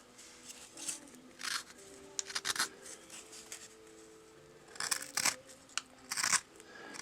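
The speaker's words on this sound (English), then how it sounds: "This is a 3/8 scoop gouge." A 3/8 scoop gouge carves feathers into wood in short separate bursts of crisp scraping and slicing cuts, close and fairly quiet, with brief pauses between the strokes.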